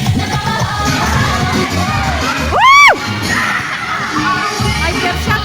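A lively crowd of children shouting and cheering nearby at a Zumba session, with one loud rising-and-falling shriek standing out briefly in the middle.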